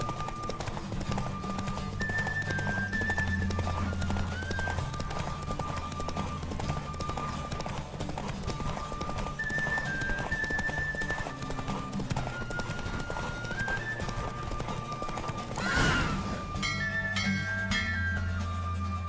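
A racehorse galloping in a Witcher 3 race, steady clip-clop hoofbeats running throughout over game music, with a brief sharp burst near the end.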